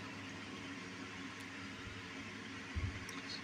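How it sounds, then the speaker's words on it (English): A vacuum cleaner drones steadily from the room upstairs, a muffled, constant hum with a brief low thump near the end. "I can hear the vacuum cleaner like right above my head."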